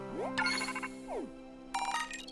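Phone notification chime in the Pokémon Scarlet video game, a bright electronic jingle with rising sweeps and ringing tones in two short bursts, clear and alone.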